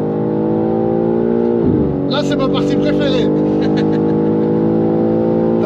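A 912-horsepower BMW M3 accelerates hard in a drag race, its loud engine drone climbing, dipping at a gear shift, then pulling strongly again while someone talks over it.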